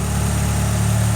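A Mazda Miata engine fitted with individual throttle bodies, stock cables and stock spark plugs idles with a steady, even low rumble that stays close and constant throughout the short stretch.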